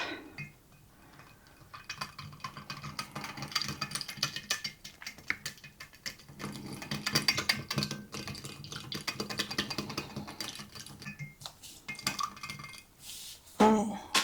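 A spoon stirs cornstarch into sweet and sour meatball sauce in a crockpot, making steady scraping and clinking against the pot, with a louder clatter near the end.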